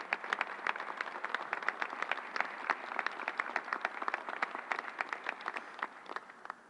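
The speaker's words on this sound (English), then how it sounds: "Let's give them a big round of applause." A crowd applauds vaccine site workers, including nurses, doctors, technicians and National Guard members, at a New York City vaccination site, with dense, steady clapping throughout.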